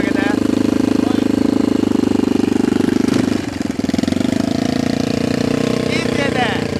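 Yamaha SR500 chopper motorcycle engine running close by with a steady, loud thumping idle that rises slightly as the throttle is eased up, continuous throughout.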